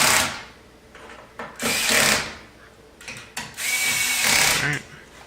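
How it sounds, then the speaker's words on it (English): A power screwdriver whirs in short bursts, then its clutch slips with a rapid ratcheting chatter, close and fairly loud. "You'll hear that clutch kick in."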